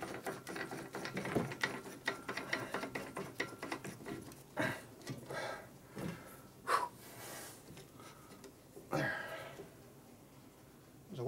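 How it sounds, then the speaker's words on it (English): A 1942 Harley-Davidson WLA with worn-out bearing races gives a run of irregular mechanical clicks and ratcheting as its steering is turned, with breathing and a few bumps close by. "Listen to it click. You're right, those races were shot."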